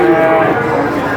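A cow lets out a single drawn-out moo close by at the Purwantoro cattle market, loud against a low background murmur.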